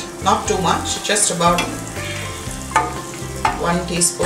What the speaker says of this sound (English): I'm going to add some butter to it